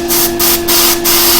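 Loud bursts of paint spray from an airbrush or spray gun, four short hissing pulses in a regular rhythm over a constant compressor hum.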